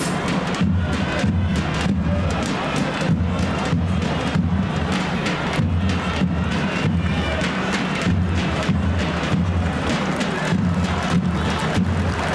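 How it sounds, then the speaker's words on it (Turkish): A standing audience claps steadily for the flag at an indoor Turkish event, a dense and continuous wash of applause with faint voices underneath. "ay yıldızı, av bayrağımızı ayakta alkışlıyoruz"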